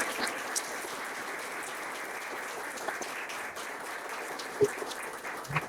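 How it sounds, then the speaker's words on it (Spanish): Audience applause for Roberto at an economics debate between mainstream and Austrian economists, an even, sustained patter of many hands at moderate volume with a few sharper claps standing out. "Un fuerte aplauso para Roberto, por favor."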